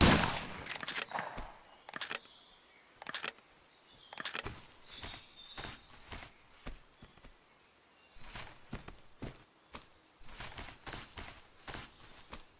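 Sporadic gunshots in the survival game Survive The Nights, sharp separate cracks and short bursts at moderate distance with quiet gaps between them.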